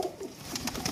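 A red-eyed female pigeon gives short, soft coos at close range in a brief burst, with a faint airy background and no talking.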